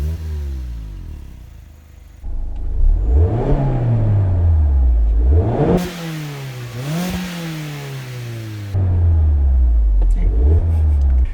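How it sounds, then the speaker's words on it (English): A 2.0-litre Mazda MX-5 Miata (ND) exhaust revs repeatedly, rising and falling in pitch through several loud bursts, with a steady engine drone between them. "So let's go ahead and get an exhaust clip."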